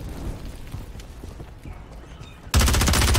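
Rapid pistol gunfire in a video game crackles in a fast burst, starting suddenly after a stretch of quieter background noise, loud and close.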